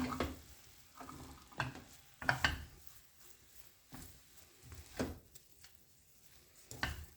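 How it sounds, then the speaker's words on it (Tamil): Beetroot poriyal mixed with masala in a pan, several scraping stirs and soft sizzles in an uneven rhythm, close by and fairly quiet with no talking. "ஸோ நல்லா மிக்ஸ் பண்ணி விட்டுடுங்க அந்த மசாலாவோட"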